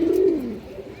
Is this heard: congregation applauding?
no